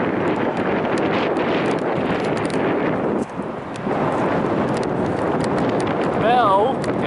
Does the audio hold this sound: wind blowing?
yes